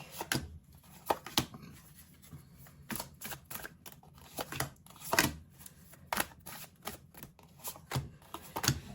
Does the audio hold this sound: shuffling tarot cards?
yes